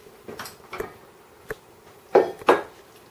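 Escarole and bean soup ladled into bowls over crisp bread: a few soft clinks and scrapes of a dipper against pots and dishes, with louder knocks toward the end.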